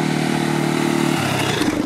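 Mash X-Ride 650 Classic single-cylinder motorcycle engine, a loud close thumping drone that changes pitch partway through as the rider revs or shifts, continuous and alone.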